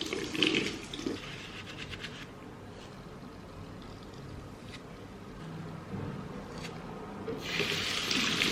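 Makeup brushes are rinsed under a running tap, a steady splash and trickle of water into a sink with louder bursts at the start and end.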